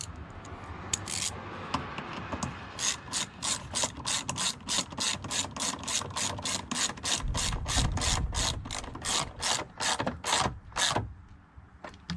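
A hand ratchet clicks rapidly in short bursts while tightening a bolt on an oil separator bracket under the hood of a 2021 Ram TRX with a supercharged 6.2L engine, close and crisp with no talking.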